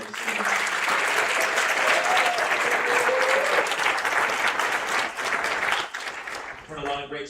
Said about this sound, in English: I get one more round of applause for all the candidates.